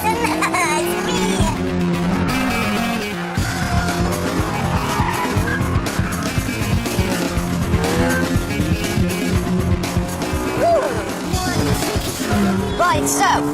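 A new TVR Sagaris sports car being driven hard, engine roaring continuously close up with tires squealing and skidding through corners, loud and sustained with a voice talking over it.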